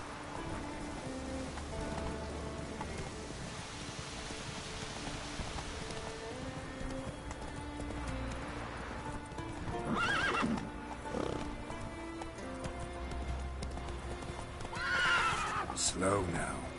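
Roach, the horse in The Witcher 3, trotting with steady clip-clop hoofbeats and two loud whinnies, over light rain and game ambience, with a voice speaking at times.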